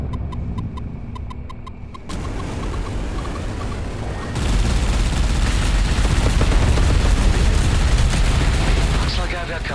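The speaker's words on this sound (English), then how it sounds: "Let's switch the rockets." Rockets firing in the space combat game EverSpace 2, starting with a rapid run of repeated launch pulses, then turning into a loud, dense roar of explosions and thrust that keeps going, with a voice talking at times.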